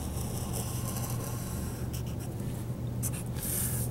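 Pen tip dragging across graph paper in one continuous drawn line, a close, steady scratchy rasp with low room hum beneath and no talking.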